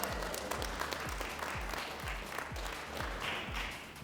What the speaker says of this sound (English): Let's give a big round of applause to Kim.